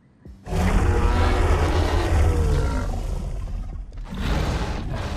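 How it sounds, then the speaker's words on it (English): A dinosaur in The Isle video game lets out a loud, drawn-out roar lasting several seconds, then a second shorter roar right after a brief gap, both close and dominating. "when you type in game, it makes your dinosaur roar"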